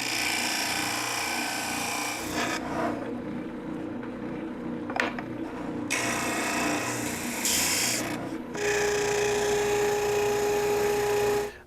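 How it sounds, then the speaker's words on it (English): Spindle sander with 80-grit abrasive shaping the wings of a wooden acoustic guitar bridge, a steady rubbing rasp that comes and goes in passes, with a short pause mid-way and a constant motor hum near the end. "Got the spindle sander set up for probably 4 millimeters or so"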